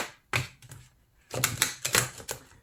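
A deck of cards, likely tarot, is shuffled by hand in two bursts of quick, dry riffling and flicking, with a short pause between them. It is close and fairly quiet, with no talking.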